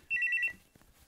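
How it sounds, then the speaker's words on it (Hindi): A telephone rings in a Hindi-dubbed film scene, one short electronic trill burst lasting about half a second, fairly clear and not masked by speech. "फोन बज रहा है, कौन हो सकता है?"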